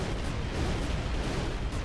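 A dense, roaring burst of flame from a Fire Breath attack in Final Fantasy X, a continuous fiery rush filling the short moment without any voices.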